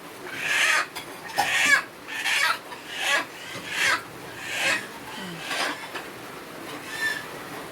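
A chicken on a rural farm clucks repeatedly before slaughter, about ten evenly spaced raspy bursts close by, with no talk.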